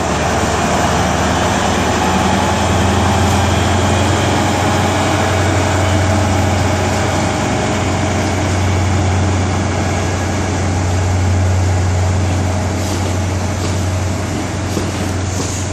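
Class 43 locomotive 43022 at Exeter St David's station, its diesel engine producing a loud, steady low throb and drone close by, holding constant without pause or speech.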